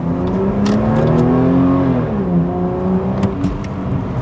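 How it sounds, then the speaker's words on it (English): A 2007 Ford Falcon XR6 with an automatic transmission revs on a rev-matched downshift, its engine note climbing and dipping, loud and close, with steady road and cabin rumble underneath. "I love it when you can rev match your own downshift in an automatic"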